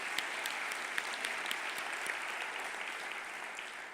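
A conference audience applauds steadily at a closing session, a dense, even wash of clapping at moderate distance with a few sharper individual claps standing out, continuous for the whole stretch.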